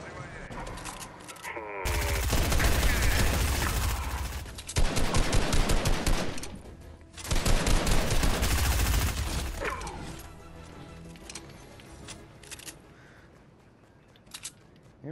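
Rapid SMG fire in a Fortnite match, two long dense bursts several seconds each with a shorter flurry after, loud against game sounds with players talking between.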